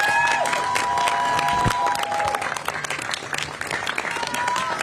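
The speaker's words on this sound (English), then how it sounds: "A big round of applause for her." Crowd applause and cheering fill a San Francisco rally for immigrant communities, steady dense clapping with scattered whistles and shouts throughout, fairly loud and continuous.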